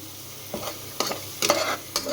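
A spice mix of Kashmiri chilli powder and salt fries in ghee, a continuous low sizzle broken by several short stirring scrapes close by.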